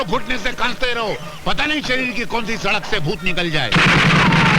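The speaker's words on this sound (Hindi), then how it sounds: "अरे ये तो तमंचे की आवाज है भैया।" A pistol shot in a Hindi action film lands as a loud, sustained burst at the end, right after someone speaks over the soundtrack.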